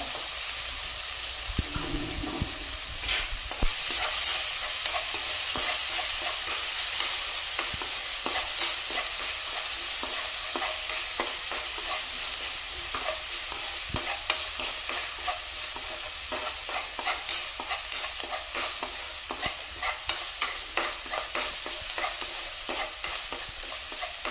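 Sliced onion and green chillies, with a pinch of salt, sizzle and fry in a pan for a green chilli curry, with a constant hiss broken by frequent scraping stirs, close up and with no talking.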